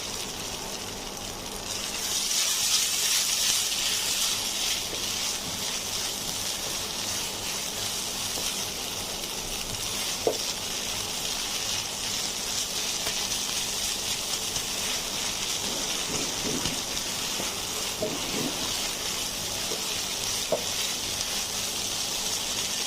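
Chicken stuffing cooking in a pan as a cornflour slurry goes in, a steady soft hiss of simmering under a few faint clinks and stirring scrapes, no talking.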